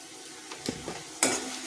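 Soft frying sizzle of tomatoes in oil in a pan, broken by a few stirring scrapes and a louder burst of crackle near the end.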